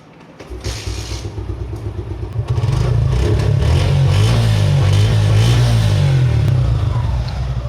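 A motorcycle kick-started: a few rattling kicks, then the engine catches and settles into a loud, steady running thrum nearby.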